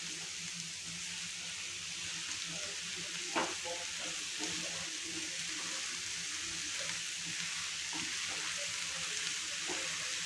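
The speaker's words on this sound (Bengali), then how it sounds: "এটাকেও আমাকে কিন্তু একটুখানি ভালো করে ফ্রাই করতে হবে" About 400 grams of button mushrooms frying in butter and garlic, a steady close sizzle with occasional scraping of stirring, with no talk.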